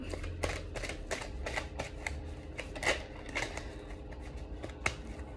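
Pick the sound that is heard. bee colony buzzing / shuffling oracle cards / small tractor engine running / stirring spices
shuffling oracle cards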